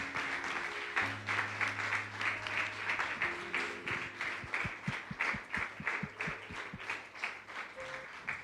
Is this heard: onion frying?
no